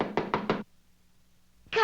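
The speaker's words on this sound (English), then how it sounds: "Just then there was a knock." A knock on a door in a Rocky & Bullwinkle cartoon: four quick, sharp raps in an even rhythm, then brief quiet before a voice starts talking.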